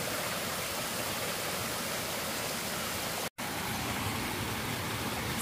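Waterfall on the Appalachian Trail gives a constant, full roar of rushing water close by. The sound breaks off for an instant midway, then carries on unchanged, with no voices.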